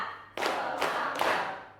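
Schoolchildren in a classroom clap in unison three times, evenly spaced group claps, close and crisp, each fading quickly before the next.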